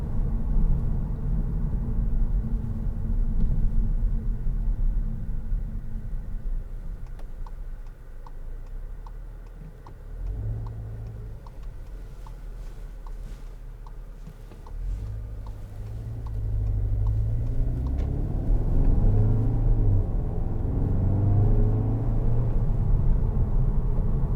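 Engine of a 2017 Skoda Octavia 245 vRS DSG five-door on a test drive, a steady low rumble with rising and falling tones as it accelerates, and a soft rhythmic indicator ticking through the middle.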